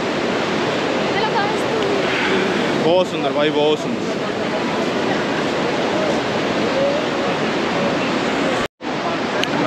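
Hot spring water at Manikaran gurudwara rushes in a steady, loud, broadband roar that fills the scene, with someone briefly speaking over it.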